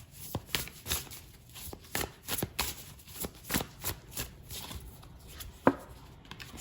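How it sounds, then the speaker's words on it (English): Oracle cards being shuffled by hand give repeated riffling bursts, close and fairly loud, in an uneven rhythm of about a dozen quick flurries, with no talk. "I'm going to pull another oracle card here"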